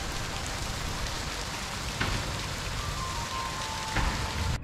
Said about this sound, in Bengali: অবশেষে বৃষ্টি এসছে।